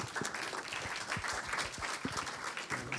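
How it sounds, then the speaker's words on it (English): Audience at an energy symposium on offshore grids in the North Sea applauds to welcome a speaker, a full, steady round of many hands clapping from a seated crowd filling the room. "please welcome him with a warm applause"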